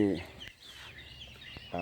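Black-tailed Pradu Thai chickens feeding outdoors, giving a few short clucks at the start and end with quiet gaps between, fairly close and soft, with faint voice-like sounds in the background.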